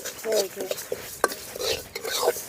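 Urad dal lentils roast in a pan for sambar powder while a spoon stirs them, producing scraping, rattling strokes and faint crackle at close range, with a voice speaking softly over the stirring.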